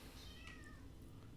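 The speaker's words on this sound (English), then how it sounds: "I don't know if you guys can hear my kitten is meowing like a storm up here." A kitten meows faintly in the background, a few thin high cries rising over a low steady room hum, off-mic and distant.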